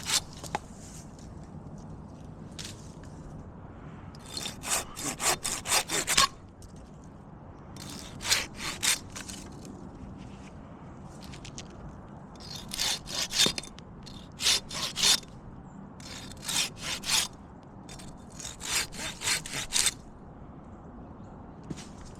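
Small Leyland cypress branches are cut with a hand saw, giving bursts of quick rasping strokes separated by pauses, fairly close and with no talking.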